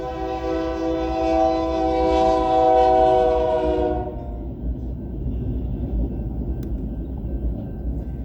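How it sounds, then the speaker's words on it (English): A train passes with a loud, sustained horn blast for about four seconds, then cuts off, leaving a low rolling rumble of rail cars continuing alone. "There's a train."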